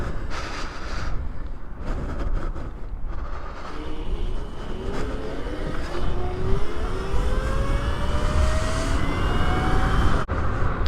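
An RSF650 motorcycle fitted with new handlebars rides along a road on an afternoon. Its engine whine climbs steadily in pitch through acceleration under constant wind rush, with no talking.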